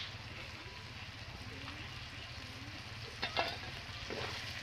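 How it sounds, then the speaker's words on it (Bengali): Mutton sautés on a low flame in a village-style curry pot with a soft, even sizzle and a low hum of the burner, and a few brief scraping clicks near the end. "অল্প আঁচে আমি কষে নেব মাংসটাকে, তাহলে খুব সুন্দর ভালোভাবে সিদ্ধ হবে।"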